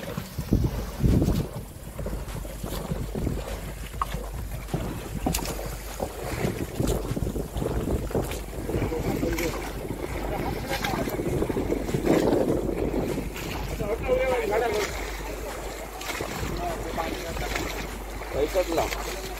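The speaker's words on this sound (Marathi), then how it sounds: "तर मग आता होडी खेचूक आता घेतल्यानी बाहेर" A fishing boat is hauled ashore at Devgad beach during a Rapan festival, with strong wind buffeting the microphone, surf washing nearby, rough scraping and thumps of the hull, and a crowd of people talking and shouting.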